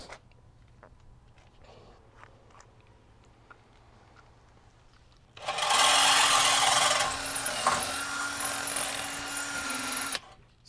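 After a few quiet seconds with faint taps, a power drill with a large bit kicks in loudly up close, whining and grinding steadily for about five seconds before stopping, during work on a Dodge Charger grille.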